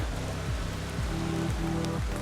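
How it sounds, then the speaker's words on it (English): Steady rain hisses down onto the water of the Mad River, a dense continuous patter, with a low rhythmic rumble underneath. "it starts raining right when I get on the water"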